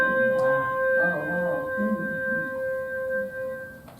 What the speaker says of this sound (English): Okay, the gyro,